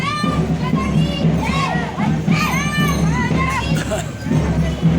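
A crowd of uniformed RSS volunteers, children among them, shouts patriotic slogans in unison during a centenary march, the loud chanted calls rising and falling close by over a steady background hum.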